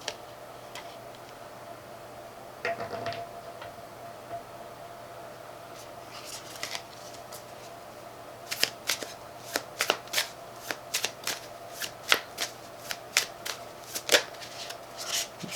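A deck of tarot cards is shuffled close by: a few scattered riffles early on, then a quick run of crisp, rhythmic card snaps and flutters building toward the end, all in a quiet room.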